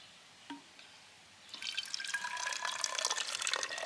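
White vinegar poured into a tube for a baking soda rocket: after a quiet start and a small knock, a steady liquid trickle begins and continues, close and fairly faint.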